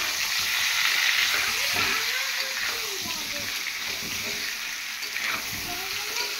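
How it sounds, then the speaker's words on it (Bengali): Potatoes frying in a pan for chicken biryani, a close, continuous sizzle with occasional stirring scrapes, while someone talks over it. "এখন আলুটাকে এই দেখো ভেজে নিচ্ছি।"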